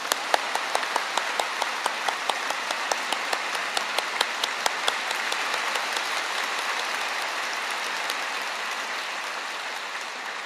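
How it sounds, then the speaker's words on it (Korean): A church congregation at a memorial service for the 74th anniversary of the Korean War applauds to welcome a speaker. Warm, sustained clapping fills the hall, with sharp individual claps standing out at first before blending into a steady roar. "나오실 때 뜨겁게 박수로 환영하십시다"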